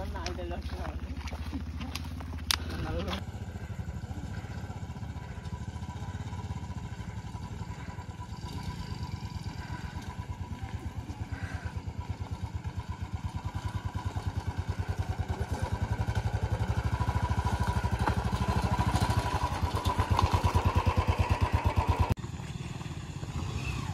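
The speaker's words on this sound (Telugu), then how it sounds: "ఇక్కడ నుండి కొన్ని బైక్స్ కూడా వెళ్తున్నాయి." Motorcycles ride past on a rough, broken road on the way to Muthyala Dhara waterfalls, a steady engine drone building slightly louder toward the end, with people talking throughout.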